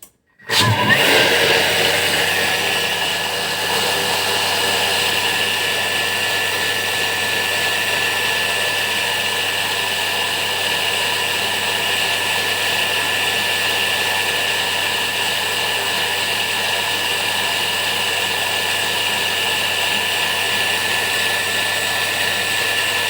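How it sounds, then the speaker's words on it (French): Thermomix kitchen machine blending baghrir crepe batter at speed 8, a steady high whirring hum that starts abruptly and runs continuously for over twenty seconds, close and alone without talk. "on va venir mixer le tout pendant 30 secondes"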